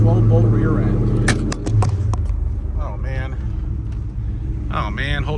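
A 1970 Chevrolet Chevelle with a 454 big block engine, automatic transmission and 12-bolt rear end runs close by, a deep steady rumble beneath someone talking throughout.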